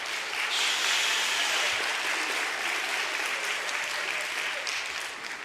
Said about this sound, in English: clap for the woodwinds